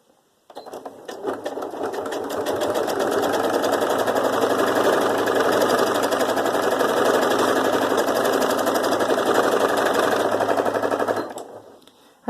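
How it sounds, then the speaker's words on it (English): A sewing machine fitted with an embroidery foot runs in a fast, steady mechanical chatter while free motion sewing through fabric with a dissolvable layer on top, starting abruptly and stopping after about eleven seconds. "Now this is called free motion sewing."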